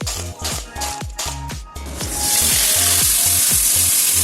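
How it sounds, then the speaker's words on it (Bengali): Crabs fry in hot mustard oil in a very hot wok, a loud close sizzle that swells into a steady hiss, with a run of regular low thumps from stirring or tossing early on. "কড়াই খুব গরম করে তাতে সর্ষের তেল দিয়ে ভালো করে গরম হলে কাঁকড়া মাছগুলোকে দিয়ে ভালো করে ভেজে নিতে হবে।"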